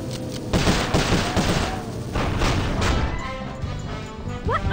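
Rapid gunfire in the Sly Cooper: Thieves in Time video game, loud bursts of repeated shots and crashing impacts under game music and effects.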